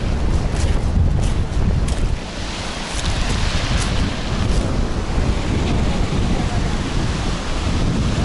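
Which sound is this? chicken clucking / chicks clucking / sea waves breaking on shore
sea waves breaking on shore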